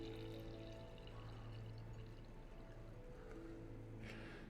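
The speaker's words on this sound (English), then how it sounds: "That's me pouring myself some green tea." Green tea being poured into a cup, a soft steady liquid stream under a low background hum, with a brief brighter splash near the end.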